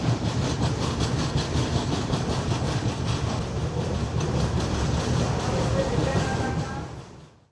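A train pulls into Bobbili Junction with a steady, loud rumble and rhythmic clickety-clack of wheels over rail joints, close and continuous before fading out at the end.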